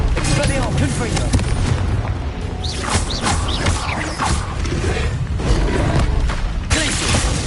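Confringo blasting spell booms in Hogwarts Legacy, dense repeated explosive bursts layered with magical whooshes and combat effects, loud and continuous with no clear gaps.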